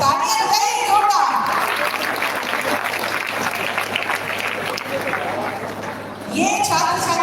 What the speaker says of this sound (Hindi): तालियां बजाएं जोरदार